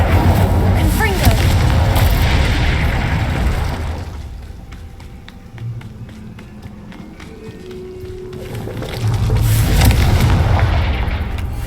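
Fiery blasts and booms from spellcasting in the wizarding game Hogwarts Legacy, loud and continuous through the clip, with a quieter stretch in the middle before the explosions swell again.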